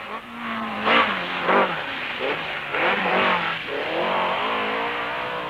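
Lancia and Fiat rally cars racing, engines revving up and down in several rising and falling sweeps as they pass close by, loud and unbroken with no talking.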